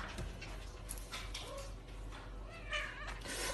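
A pet cat meows several times in a domestic setting, fairly close, with short nasal calls scattered over a few seconds and faint background noise; no clear speech.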